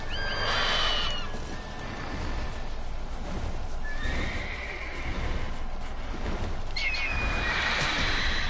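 Roach, the horse in The Witcher 3, gives two loud, close neighs, one at the start and another near the end, with busy game sounds and hooves in between.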